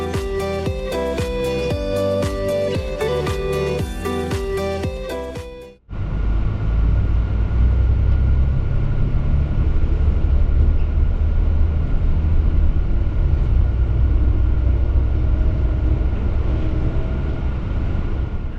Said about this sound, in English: now it's time to listen to the sound of the Lint 54 of the SWEG